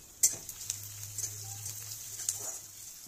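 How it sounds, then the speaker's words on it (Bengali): Onion fries in a pan over a medium-high gas flame, a soft continuous sizzle with a few sharper crackles and light stirring taps, and no talk over it. "এইভাবে একটু সময় ধরে পেঁয়াজটা আমি ভেজে নেব।"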